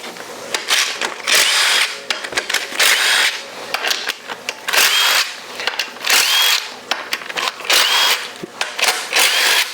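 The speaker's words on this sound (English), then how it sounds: "let's go ahead and remove our pump bolt." A 13mm socket on a ratchet or power driver loosens a pump bolt on a performance 4L80E transmission during teardown, giving repeated close bursts of whirring and clicking with short pauses between them.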